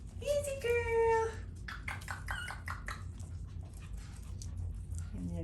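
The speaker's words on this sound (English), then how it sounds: "Moved the babies in the bedroom for a little while I was cleaning, so I thought I would share their antics with you." Pomeranian puppies make a high whimpering whine, then pant and snuffle close by, while a person talks softly over the background.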